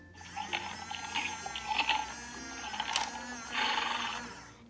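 Holding the button on a Spirit toy horse sets its carrot-eating mechanism going, a close, ratcheting whir of small gears with chirpy electronic tones mixed in, rising in bursts over a few seconds.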